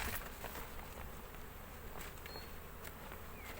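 Crowd of honeybees buzzing steadily around an open hive box during a frame inspection, a dense continuous drone close by with no voices.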